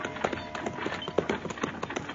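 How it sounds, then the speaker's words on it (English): Galloping horse hooves as a radio drama sound effect for a rider heading out of town in an old Western, a quick, steady clip-clop rhythm at moderate loudness with no voices. "we saw Chester riding out of town to meet us."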